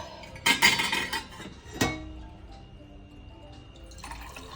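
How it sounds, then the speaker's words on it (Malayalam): Boiling water is poured into a pot for a tender jackfruit and dal curry, a short splashing gush with clinks of metal cookware, then a second brief pour and quiet kitchen clatter. "കുറച്ച് വെള്ളം ഇക്കട്ടെ, തിളച്ച വെള്ളം."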